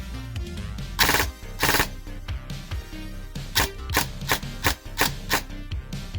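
Rare pistol, battery-powered at 7.4 volts, firing first in semi-auto and then in full auto: loud close bursts of rapid sharp reports with mechanical clatter between them.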